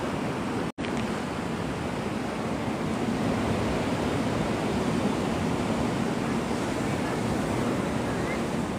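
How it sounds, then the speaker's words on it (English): Steady surf and wind at Navarre Beach, Florida, a continuous broadband rush of waves with gusting wind noise on the microphone, interrupted by one sudden brief dropout near the start. "This is Navarre Beach, Florida."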